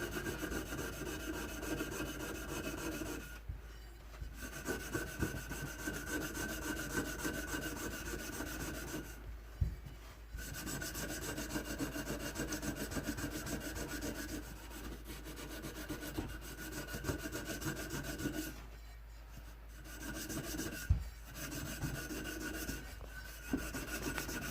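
Steady scrubbing of a dirty bell, a close, continuous rasping scour in long stretches broken by a few brief pauses, with no talk.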